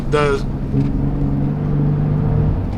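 A Gen 3 Ford Raptor with a 3.5L V6 and AWE Switch Path exhaust rumbles steadily at a low, deep idle, with a short burst of voice at the start.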